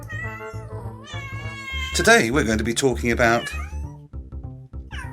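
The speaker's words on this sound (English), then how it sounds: "What's that? That's a cat" A cat meows several times in quick succession, loud and close, its cries rising over a steady musical backing, with a person speaking at the start.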